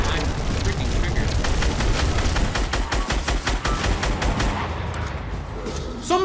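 Rapid bursts of gunfire from a Fortnite match, with sharp repeated shots and a burst assault rifle clattering close and loud over game noise, no sniper crack clearly apart from the barrage.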